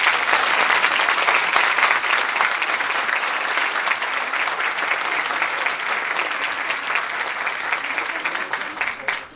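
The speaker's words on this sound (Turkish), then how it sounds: "Performans lütfen bir daha bir yüksek sesi alkışlayalım." Audience applause at a Turkish folk music choir concert: a large crowd claps in a dense, sustained wash, loud and steady throughout, tapering slightly at the very end.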